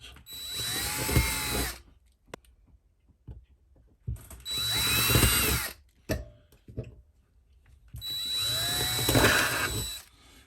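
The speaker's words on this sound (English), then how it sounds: "Pre-drill all the holes." A power drill whirs in three separate bursts of about two seconds each, pre-drilling holes through RV paneling, separated by quiet pauses with faint clicks.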